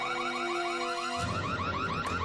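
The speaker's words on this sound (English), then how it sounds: "this actually does set off the alarm" A cartoon house alarm from a South Park episode wails loudly and steadily, its repeating rising warble running without a break and a low rumble joining halfway through.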